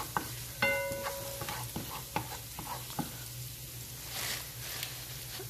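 Garlic fries in oil in a pan with a soft continuous sizzle, punctuated by several sharp utensil clinks and taps against the pan; no speech.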